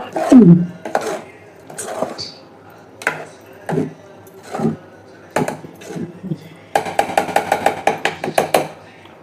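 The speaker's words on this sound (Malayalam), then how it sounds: "നോക്കാം, ഒന്ന് നെയ്യ് ഒഴിച്ച് ഇളക്കുക." Spoon scraping and knocking in a pot of pongal after ghee is poured in, irregular strokes at first, then a quick run of rhythmic taps, with soft talk at the start.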